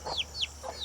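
Chickens make short, repeated calls, about three quick clucks or chirps in under a second, close and fairly clear over a steady low hum, with two hens and a young bird kept together.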